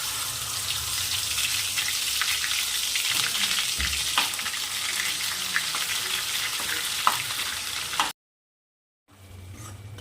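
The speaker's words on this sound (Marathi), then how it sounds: "हे बघा छान परतून राहिले याला कलर चेंज होत आहे" Ground masala paste for misal fries steadily in hot oil with bay leaves and curry leaves, a dense close sizzle with occasional stirring scrapes, cutting out abruptly near the end before resuming softly.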